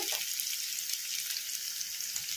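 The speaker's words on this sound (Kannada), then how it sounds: "ನಾವು ಹೈ ಫ್ಲೇಮಲ್ಲಿ ಇಟ್ಕೊಂಡು ಫ್ರೈ ಮಾಡ್ಕೊತಿದ್ವಲ್ಲ ಕ್ಯಾಪ್ಸಿಕಮನ್ನು" Capsicum frying in a pan over a high flame gives an even, soft sizzling hiss that carries on steadily without a break, heard close up and fairly quiet, with no one speaking.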